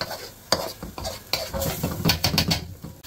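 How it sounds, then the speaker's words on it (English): Korma sauce being stirred and scraped around a pan, with a soft sizzle under irregular utensil scrapes and taps against the metal, close up and without speech. "Incorporate the ingredients. Scrape all that good stuff from around the pan back into the sauce."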